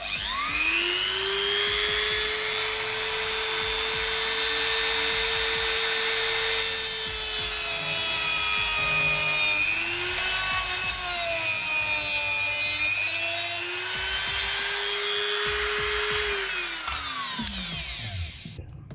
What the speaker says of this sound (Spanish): ahora cogeremos nuestro mini taladro con el disco de corte y vamos a ello